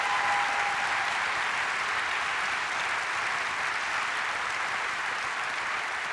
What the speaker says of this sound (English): Now you can give yourselves and all our colleagues another round of applause.